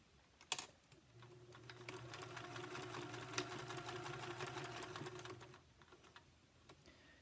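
A sewing machine runs a steady rapid burst of stitches for about four seconds, humming and ticking at close range while anchoring a ribbon channel on a fabric gift bag, with brief clicks before and after.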